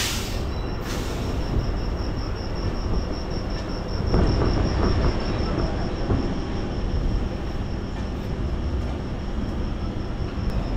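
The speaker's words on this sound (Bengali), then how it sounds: "আমাদের ট্রেন তো ছাড়লো 8:25-এ।" An Eastern Railway special train runs toward Tarakeswar with a steady, continuous rumble of wheels on track from inside the carriage, a faint high whine above it and a brief clatter midway.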